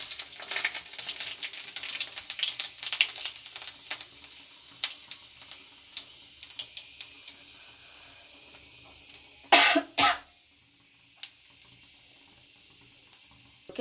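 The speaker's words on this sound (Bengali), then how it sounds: "পুঁই শাকের জন্য আমি শুকনো লঙ্কা ফোড়ন দিলাম, পাঁচ ফোড়ন দিলাম তেলে" Dried red chillies and panch phoron five-spice crackle in hot oil as a tempering for Malabar spinach, a dense popping sizzle that gradually thins out, followed by a few sharp louder bursts and then near quiet.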